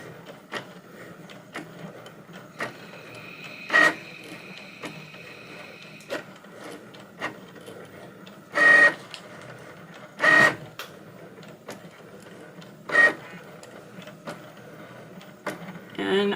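A Cricut Maker cutting machine draws on an insert card, giving a steady low mechanical whir with a handful of louder, brief motor bursts as the carriage moves, close by and with no talk.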